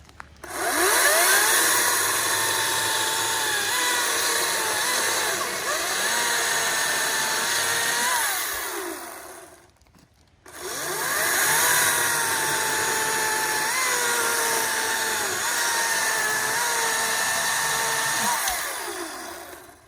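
A Ryobi cordless chainsaw runs loud and close while cutting a pine log, its pitch rising and falling under load, with a brief drop near the middle before it roars back.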